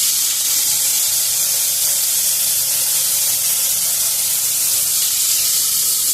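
Ground onion paste sizzling loudly in a hot pan for a Bengali winter vegetable curry, a steady, close, continuous hiss with no pauses and no talking.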